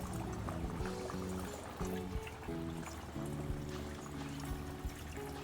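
Water trickles and drains down through a GreenStalk vertical garden planter, a faint, continuous pouring and dribbling with a steady flowing texture and occasional small splashes.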